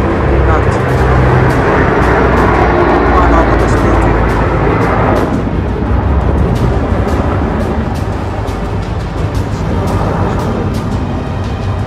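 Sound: firefighting airplane passing and dropping water

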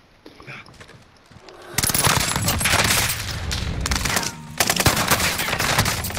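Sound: gunfire in a video game

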